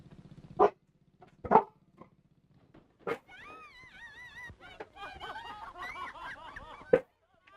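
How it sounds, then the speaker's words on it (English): Several sharp, close yelps and barks from a dog scattered over quiet moments, alongside whiny, squeaky vocal sounds in between, in a 1937 film. "Don't mind the dog."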